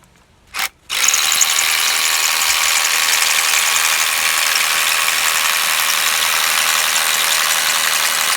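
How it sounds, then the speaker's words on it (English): A power drill with a 1/2-inch bit bores out a climbing anchor hole in rock, starting after a brief blip and then running as one loud, continuous, steady high-pitched whine close by. "So we can drill it out with the 1/2-inch bit."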